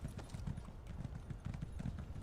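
Rapid, steady hoofbeats of a galloping horse in Elder Scrolls Online pound close and even throughout, without talk.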